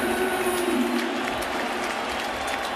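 A sellout crowd of over 46,000 at a baseball stadium roars and applauds in a steady, distant-sounding wash of noise, with faint tonal whistles near the start.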